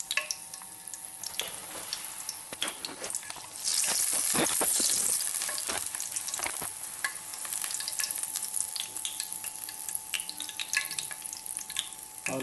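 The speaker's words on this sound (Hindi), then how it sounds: "तीस सेकंड तक हम इसको भूनेंगे।" Chicken qorma fries in a pan with a steady crackling sizzle, punctuated by stirring scrapes and spoon clicks. The sizzle swells louder partway through and then carries on evenly, with no talking.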